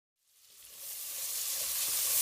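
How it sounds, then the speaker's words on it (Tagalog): Onions sautéing in melted butter in a pan, the sizzle starting from silence and building into a steady, bright hiss that grows louder over about two seconds, with no voices. "Pagkatapos ay gisahin ang sibuyas."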